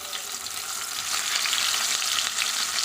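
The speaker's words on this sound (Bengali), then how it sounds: "তেল গরম হয়ে গেছে, এখন মাছগুলোকে একে একে দিয়ে দিচ্ছি।" Fish pieces sizzle as they go into hot mustard oil in a kadai, a loud, steady crackling hiss that holds and swells slightly across the whole stretch with no talk.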